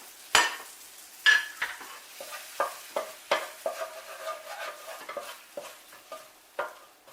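Sweet Mexican corn with a little taco seasoning cooks down in a pan. Irregular spoon scrapes and clicks sound close over a faint, steady sizzle.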